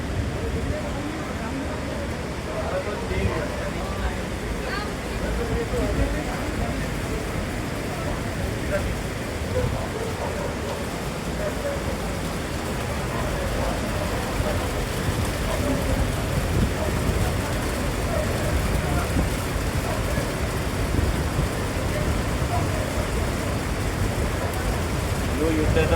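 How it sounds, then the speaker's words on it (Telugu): The Saraswati river flowing near Mana village in the Himalayas, a dense steady rushing roar of water that fills the whole span without letting up. "ఎంత వాటర్ ఫ్లో ఎంత ఉంది చూడండి"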